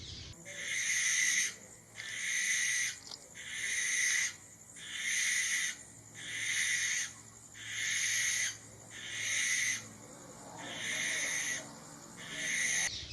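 A barn owl gives a long series of harsh, hissing screeches, about nine evenly spaced drawn-out calls of roughly a second each, steady and fairly loud against a quiet background.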